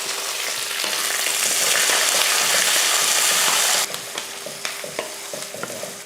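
Onion, urad dal, chana dal, curry leaves and green chili sauté in hot oil in a pan, a steady loud sizzle with stirring scrapes that drops slightly partway and continues with spoon clinks.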